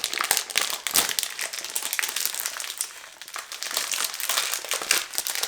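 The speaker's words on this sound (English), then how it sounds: "Just a little packaging ASMR for you." Cellophane and paper packaging around a Kilian Princess perfume crinkle and rustle steadily up close while the box is unwrapped, a dense, continuous crackling with no talking.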